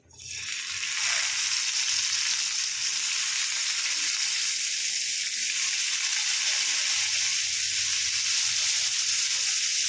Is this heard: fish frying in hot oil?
yes